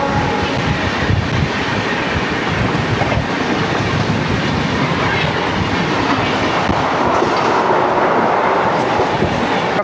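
A Howrah SMVT Bengaluru Superfast Express rumbles past, steady loud roar and rhythmic clickety-clack of wheels over rail joints filling the whole stretch, heard close from a moving train.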